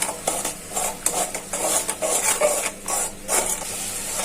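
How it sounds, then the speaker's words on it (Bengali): Ground cumin, chili powder and salt are sautéed in oil in a pan, with repeated scraping stir strokes and light sizzling. The strokes come in an uneven rhythm, close and fairly loud, with no talking. "এখন ভালো করে মশলাটা কষিয়ে নেব"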